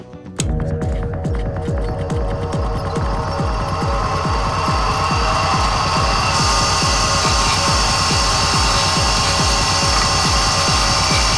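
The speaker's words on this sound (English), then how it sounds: "I got this bench grinder out. I'm gonna go ahead and round down my corners." Vintage bench grinder rounding the corners of a rattan sword, a loud continuous whine and rhythmic throbbing that start abruptly and run without a break.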